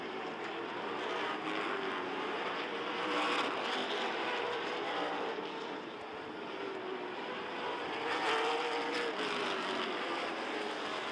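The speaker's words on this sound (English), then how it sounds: "Good driving by the Big 8 late models." Big 8 late model stock cars race a short oval track during a championship feature, their engines forming a continuous distant drone that swells and fades as the pack passes, with no talking.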